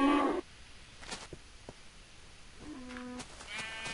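Minecraft sheep give a short bleat at the start, loud and close, followed by quiet game ambience, faint clicks and a couple of later lower animal calls like cattle lowing.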